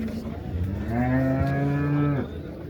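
A purebred water buffalo at a livestock market moos once, a long, loud low call that rises slightly and holds, close by, over steady background noise.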